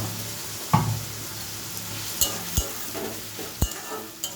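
Sliced onions frying in oil with whole garam masala for a chicken curry, a soft continuous sizzle broken by several sharp scrapes and knocks of a spatula stirring the pan.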